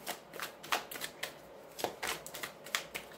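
Tarot cards (a witches' tarot deck) being shuffled by hand, a quiet series of soft riffling bursts in an irregular rhythm, close and alone with no talking.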